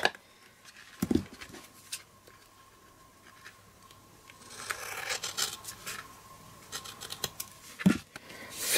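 Scissors trim excess card from a thick, folded greeting card, with soft cutting and rustling strokes and two sharper snips standing out in a quiet room.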